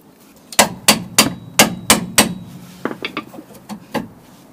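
Hammer blows on a seized car suspension ball joint, sharp metallic strikes: six loud evenly spaced hits, then a quicker run of lighter taps, close and with no talking.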